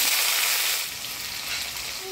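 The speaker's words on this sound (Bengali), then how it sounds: "প্রথমে আলুটা হলুদ লবণ দিয়ে ভাজি নেব।" Potato pieces frying in hot oil with turmeric and salt in a village kitchen, a dense steady sizzle close up that eases slightly partway through.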